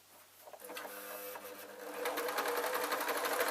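A sewing machine stitches along rag doll fabric, a steady rapid mechanical whirr that starts softly, builds, and runs louder and continuous to the end, with no talking.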